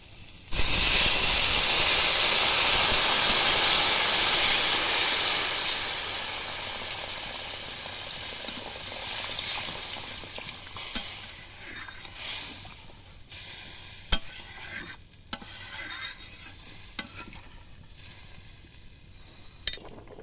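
Water poured into a hot pan of spice mix for a pangas fish curry gives a loud, sudden hiss and sizzle of steam that gradually settles into a softer bubbling simmer with small clinks.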